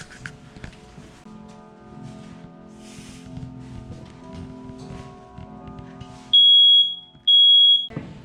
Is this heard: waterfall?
no